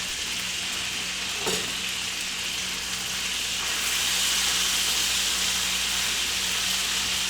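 A duck breast fries skin-side-up in a pan after being flipped, giving a steady, close sizzle and crackle that grows slightly louder midway, with no voices over it.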